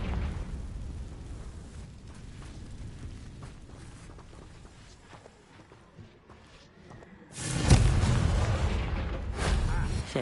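Confringo spell explosion in Hogwarts Legacy, a loud booming burst arriving after a stretch of quieter rumbling game sounds, then decaying with continued noisy crackle.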